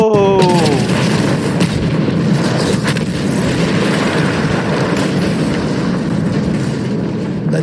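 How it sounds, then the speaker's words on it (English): A loud explosion in the World War I shooter Battlefield 1, a heavy boom with dense rumbling battle noise that stays loud and continuous throughout, with a brief whistling tone at the start. "That explosion was one of the sweetest sights of the war for me."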